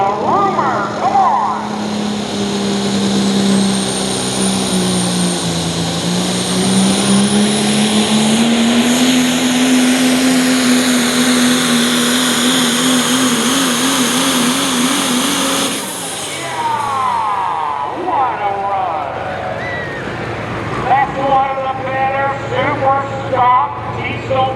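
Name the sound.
Chevrolet superstock diesel truck pulling at tractor pull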